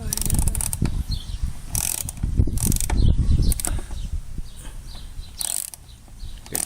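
A ratchet tightening the cover on a Generac 7550EXL generator during a tri-fuel conversion kit install, giving continuous close clicking and mechanical whirring, with a voice faintly underneath.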